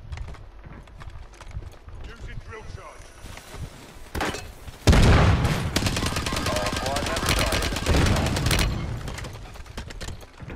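Gunfire in the video game Warzone 3 breaks out partway through as a sudden, dense burst of rapid shots that continues for several seconds, while players talk over it.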